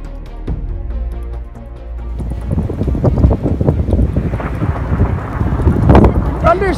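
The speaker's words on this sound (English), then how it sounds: "Thunder snow." Thunder snow rumbles during a winter snowstorm in Boston as a deep, rolling growl that builds and swells, mixed with heavy gusting wind noise across the microphone.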